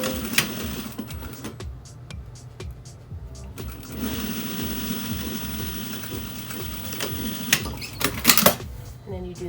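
A sewing machine stitches a 3/8-inch seam along the serged edge of a fabric face mask, running in steady mechanical bursts with short pauses and clicks, close and moderately loud.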